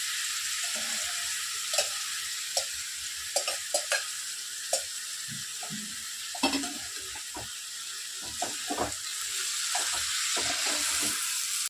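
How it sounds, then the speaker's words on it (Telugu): Boiled cabbage frying in a pan of oil after ginger and garlic have been fried, with a steady hiss and sizzle, intermittent near stirring scrapes and clinks against the pan throughout. "ఇలా అల్ల వెల్లుల్లి పేగిన తర్వాత క్యాబేజీ వేసుకో"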